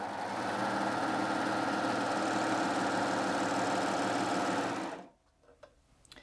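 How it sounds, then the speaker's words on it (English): A Baby Lock Aspire coverlock machine runs fast and steady on stretchy cotton jersey fabric, a loud continuous mechanical whir that stops abruptly near the end, leaving faint handling clicks. "I'm going to take this stretchy cotton jersey fabric, and I'm going to sew that without changing any of the settings on the machine at all."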